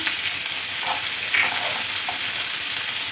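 Slit green chillies fry in hot oil with onions and mustard seeds, giving a steady close sizzling hiss with a couple of faint stirring scrapes and no voices.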